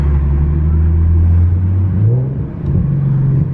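An Infiniti G37's exhaust rumbles deep and loud, then the revs drop and climb again as the car downshifts, close and steady with no voices.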